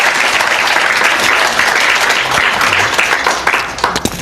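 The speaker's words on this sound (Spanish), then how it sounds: "Dale ese aplauso al Señor." Congregation applauding during a church service, a dense, steady wash of many hands clapping that thins out toward the end, with a few individual claps standing out.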